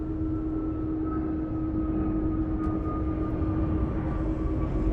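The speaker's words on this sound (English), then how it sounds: "WestJet from Vancouver on a 737-800." Steady, continuous engine roar and whine of a WestJet Boeing 737-800 from Vancouver at Los Angeles International Airport, heard at a distance with a constant drone and a faint tonal hum and no change in level.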